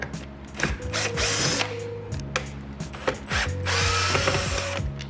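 A Phillips screwdriver turns out the screws of an interior panel in a third-generation Toyota Tundra, producing close, repeated ratcheting clicks and small mechanical scrapes at a moderate level.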